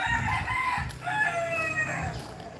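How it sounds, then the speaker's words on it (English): Roosters crow twice in a row, the long calls at mid distance over a quiet morning background with faint clucking. "Noisy roosters."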